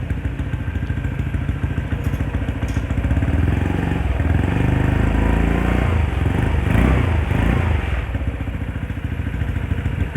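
A Honda Vario 125 scooter engine with a tuned build idles steadily to warm up, a loud continuous close-up putter with clattering mechanical texture throughout and no talk.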